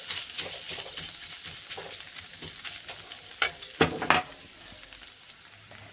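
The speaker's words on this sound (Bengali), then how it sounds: "এই যে ভালো মতন করে শাকটাকে ভালো মতন করে ভেজে নিলাম।" Pointed gourd leaves fry in a pan while being stirred, a steady close sizzle with a few louder scraping clinks of the utensil near the end, no talk.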